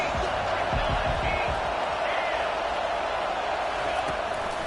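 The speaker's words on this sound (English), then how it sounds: "Decibels rising as the crowd gets behind this defense on 3rd down." Roaring football stadium crowd on a third-down defensive play, a dense, sustained wash of cheering and noise that stays loud throughout, with a few sharp thumps early on.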